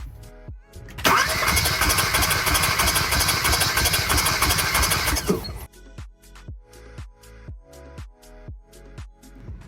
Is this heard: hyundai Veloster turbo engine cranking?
yes